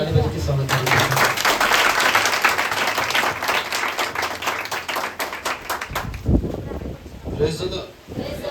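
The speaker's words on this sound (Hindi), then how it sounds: "हम ताली बजा के स्वागत करेंगे" A church congregation claps to welcome a visiting preacher brother, a dense, lively burst of many hands that holds steady for several seconds before thinning into scattered claps and fading.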